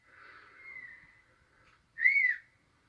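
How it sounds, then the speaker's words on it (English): A person whistles two short tones alone in a quiet room, the first a soft wavering note that fades and the second, after a pause, a louder and sharper rising-falling note. "can you give me one whistle before I go"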